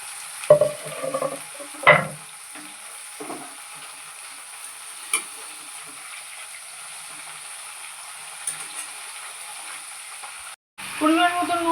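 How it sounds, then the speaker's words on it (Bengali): A faint, steady hiss of cauliflower frying in a pan as beans and potatoes are added, with a few clattering knocks and scrapes near the start and end. "ফুলকপিটা একটু ভাজা হয়ে গেছে, এবার আমি শিমগুলো দিয়ে দিচ্ছি এর মধ্যে, আলুগুলো দিয়ে দিচ্ছি"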